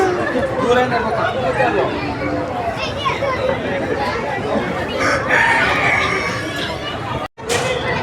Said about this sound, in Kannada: ಇದಾ ಕೋಳಿ ಅಲ್ವಾ